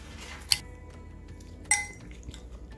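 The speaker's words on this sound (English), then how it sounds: "now with the help of a spoon, we are going to mix everything very well" A spoon stirs pineapple salsa in a bowl, giving two sharp metallic clinks against the dish followed by faint scraping and a lighter tap, close up and without talk.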